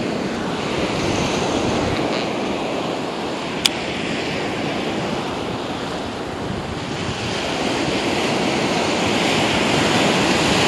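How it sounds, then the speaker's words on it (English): Large ocean waves break on the beach at Dauphin Island, a loud continuous roar of surf with wind buffeting the microphone and one sharp click partway through. "Look at the size of these waves this morning."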